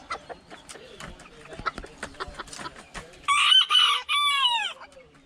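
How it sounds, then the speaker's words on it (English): A small bantam rooster crows loudly and close, one drawn-out cock-a-doodle-doo following a stretch of soft clucks and scratchy rustling. "There's one of my little roosters"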